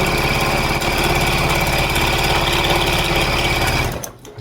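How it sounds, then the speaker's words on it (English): A sewing machine stitches a quilt's tree trunk onto its tree skirt, running as a steady, loud mechanical whir for about four seconds before stopping abruptly. "I'm actually going to sew the trunk to the tree skirt too"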